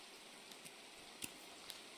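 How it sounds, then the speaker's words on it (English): Soft steady rain hisses in a tactical shooter video game like Arena Breakout or Tarkov, faint and even, with a few light ticking drops or clicks standing out. "Wow, that's a lot of rain."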